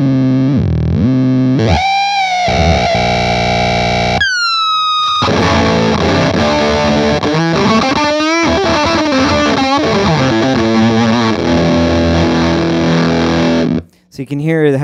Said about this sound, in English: when I actually turned it on, it made the feedback jump up in the register